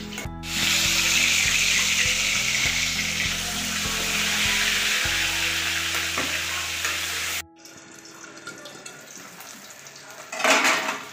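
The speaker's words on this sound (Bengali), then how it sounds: "এই একইভাবে আমি বাকি মাছগুলো ভেজে নেব" Loud, steady sizzling of pabda fish frying in hot oil, with a low hum underneath, then a quieter stretch with a metallic clatter near the end.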